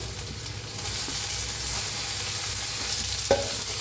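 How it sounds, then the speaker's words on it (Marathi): Chopped tomato tipped into onions frying in a pan for a cucumber bhaji, a steady loud sizzle and hiss with stirring scrapes and a sharp clink near the end, no talking. "त्याच्यात टाकूया टमाटो"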